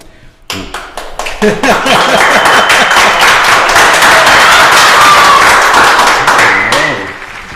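A studio audience breaks into loud, sustained applause and clapping that swells quickly, holds for several seconds, then tapers off.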